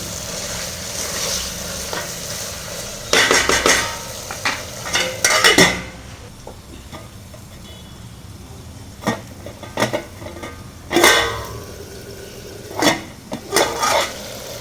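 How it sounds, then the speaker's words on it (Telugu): Mutton sizzles in hot oil in a pan for a tomato curry, a steady frying hiss broken by sharp clanks and scrapes of a spoon stirring against the pan, with no talking. "నూనెలో మగ్గాలండి మటను"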